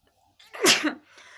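A woman close to the mic gives one loud, sharp sneeze, with a soft breathy intake before it and quieter breath after.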